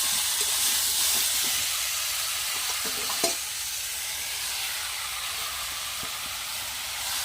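Fried vegetables and soybean being stirred in a pan, a constant hissing sizzle with scattered spatula knocks and scrapes up close, one sharper clack near the middle, no voices.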